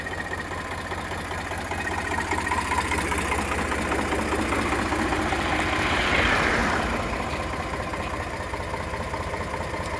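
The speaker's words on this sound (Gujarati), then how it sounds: "રિકાર્ડો એન્જિન પાણી વગરનું." A 2011 Eicher 368 tractor with a Ricardo-type engine runs at idle, a steady, close mechanical chugging with a low knocking rhythm that swells slightly midway and stays fairly loud throughout.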